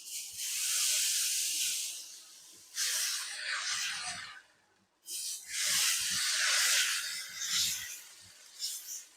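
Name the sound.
dosa batter sizzling on a hot pan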